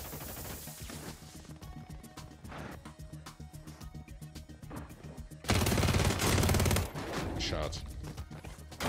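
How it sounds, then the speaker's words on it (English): Rapid gunfire in the online shooter Call of Duty: Warzone: repeated bursts of shots crackling throughout, swelling into a louder, denser volley near the middle before easing off again. "Shots."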